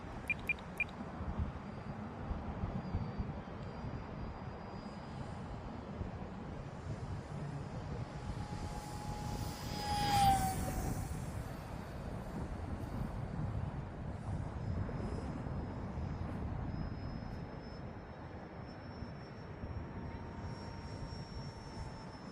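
An E-flite UMX Viper 30mm electric RC ducted-fan jet flying at half throttle, a steady high whine from the fan drifting at a distance, with one brief louder pass midway and a person speaking now and then.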